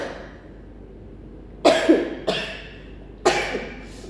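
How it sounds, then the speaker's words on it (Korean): A teacher coughs nearby during a physics class, a couple of quick bursts followed by another single cough, sharp and fairly loud against a quiet room. "요즘에 기침하면 코로나로 의심하네"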